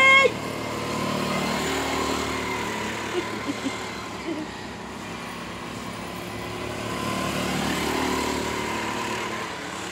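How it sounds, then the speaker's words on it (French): A steady, buzzing small-engine drone from go-karts with lawnmower engines holds throughout, rising and falling slightly as the karts pass at a middle distance, with a brief thump at the start. "Avec des moteurs à tondeuse, ça va bien."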